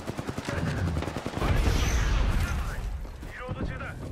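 Gunfire rings out in a video-game firefight: a run of rapid, evenly spaced shots opens the sequence, followed by heavier sustained automatic fire and booming reports, loud and close.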